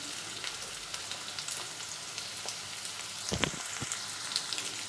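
Garlic and ginger frying with fish in a pan, a soft continuous crackling sizzle with scattered pops and a brief burst of stirring scrapes partway through.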